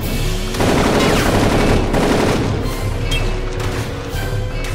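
Rapid Tommy gun fire in the video game Darkest of Days rattles in dense, continuous bursts, loud and close with crashing impacts throughout.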